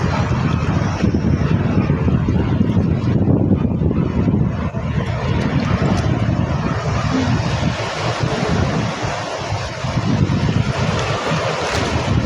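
A camera drone flies over a rocky seashore on a summer outing. Its motors give a continuous hum, partly masked by crashing surf and heavy wind noise throughout.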